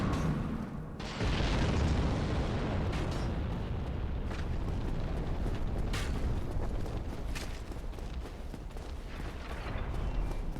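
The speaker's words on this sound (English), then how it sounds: "You can tell where the explosions are going to happen." Loud rumbling explosions and booming bursts in Dark Souls roll on continuously, dense and close, with sharp cracks scattered through.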